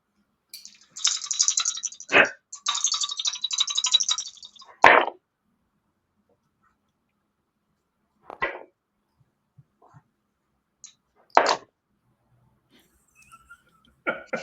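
Two dice clatter during a tabletop role-playing game, with two rattling bursts early on, then a few sharp isolated knocks spread across a mostly quiet stretch.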